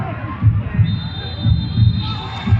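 Football stadium crowd at a match with a South African fan base: a loud, steady roar of cheering and babble, with rhythmic low thumping chants and a faint whistle-like tone above.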